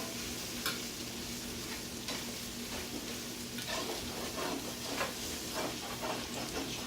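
Beef and broccoli stir-frying in hot vegetable oil, a continuous loud sizzle with the scrape and clatter of stirring throughout.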